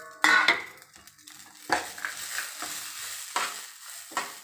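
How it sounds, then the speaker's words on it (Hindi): Cashews frying with peas in a pan as a spoon stirs them, giving a soft sizzle under repeated scraping and clinking against the metal, close and moderately loud with no talk. "अब हम इसमें काजू डाल देंगे,"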